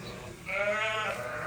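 Sheep bleating inside a pen during scanning on a German farm, a loud wavering bleat rising after a short pause and holding for about a second, close by with no talk over it.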